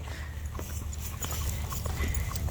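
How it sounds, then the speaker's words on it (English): A horse pulling a buggy clip-clops past on a rural road, with a steady run of hoof strikes at moderate distance over outdoor background noise. "Okay, here comes the horse and buggy."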